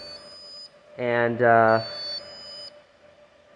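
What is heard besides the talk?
Arduino Uno controlled buzzer going off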